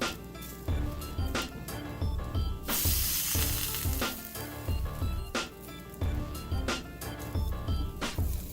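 Buttered burger buns sizzle on a hot cast iron griddle: a loud, close, continuous frying hiss, with a brief louder burst midway and repeated clicks or taps throughout.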